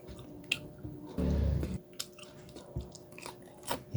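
Crispy fried chicken drenched in gravy being bitten and chewed up close, a loud crunchy bite followed by softer wet, squishy chewing sounds and small smacks, with no talking.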